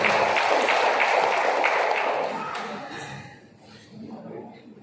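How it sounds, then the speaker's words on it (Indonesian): Applause from an audience at a farewell ceremony for a Statistics office head in North Buton, a dense sustained burst of clapping that fades after about three seconds, with talk continuing faintly beneath. "Tepuk tangan untuk tim BPS Nusantara."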